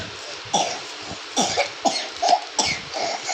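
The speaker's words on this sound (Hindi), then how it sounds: "ये खांसी हो रही है मेरी आया को।" A woman at home coughs repeatedly in several short, harsh bursts separated by brief pauses, close by over a steady background hiss.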